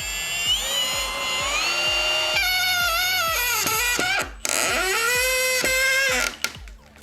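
A Milwaukee M18 FPD2 cordless impact drill drives into a wooden board, a loud, close motor whine with a rapid rhythmic hammering pulse, rising in pitch and briefly stopping before resuming, then cutting off near the end.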